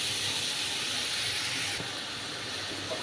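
Brinjal and fenugreek curry frying in a pan, a steady close sizzling hiss that continues evenly throughout.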